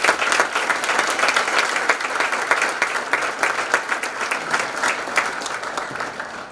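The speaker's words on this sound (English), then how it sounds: "I would like to give them a round of applause for their dedication." An audience at a high school National Honor Society induction ceremony breaks into steady, dense applause, many hands clapping together loudly and evenly for the whole stretch with no one speaking over it.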